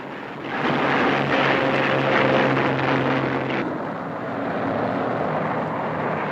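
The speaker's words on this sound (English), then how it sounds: "The first squadron is off and the second gets away from the other runway." World War II P-47 Thunderbolt fighter squadrons take off from a runway, a loud roaring drone of several propeller aircraft engines rising, then easing to a steadier distant rumble.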